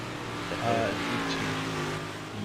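Race cars on an oval track during a 358 modified racing event, a steady engine roar heard from a distance that continues throughout beneath a commentator's voice.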